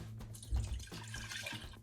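Milk poured into a saucepan while making homemade doughnuts, a soft, faint liquid splash and trickle with a slightly stronger gush near the middle, no talking.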